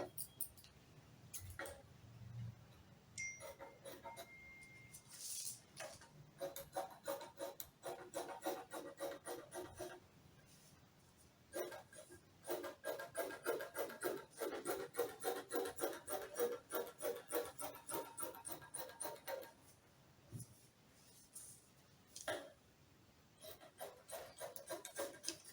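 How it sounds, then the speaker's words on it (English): Scissors cutting out a fabric sleeve, lengthened slightly, as a garment structure sleeve is made: a close, steady run of rapid crisp snips and rasping blade strokes, pausing briefly now and then before resuming. "I'm going to cut out my first sleeve right now"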